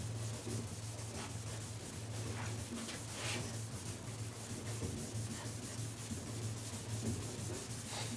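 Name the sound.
hand sanding car paint panel with 600 grit sandpaper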